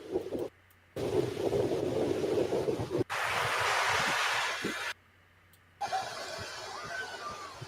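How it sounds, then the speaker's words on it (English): Small waves wash onto a country beach as heard through a television, a soft hissing surf with wind noise that cuts in and out in separate chunks between brief silences. "them small waves. Nice small country beach."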